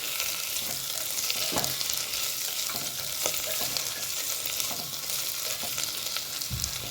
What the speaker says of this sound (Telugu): చక్కగా కాసేపు ఆయిల్లో ఆలు, క్యారెట్స్ ఫ్రై అయినాయి.